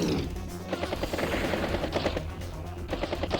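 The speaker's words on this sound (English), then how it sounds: "They even put some machine gun shots there." Rapid machine gun fire from the turn-based strategy game Advance Wars, a steady stream of quick, evenly spaced shots that runs without a break at a constant, fairly loud level.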